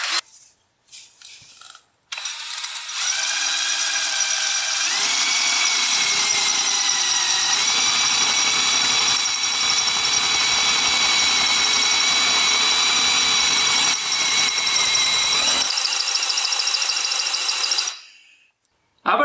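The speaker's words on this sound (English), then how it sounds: "Right, drilling. Drilling. Let's drill." A cordless power drill running at max power, boring steadily into a concrete garage floor to mount a winch: a loud, sustained high whine held for about thirteen seconds, its pitch shifting slightly as it bites, then stopping abruptly.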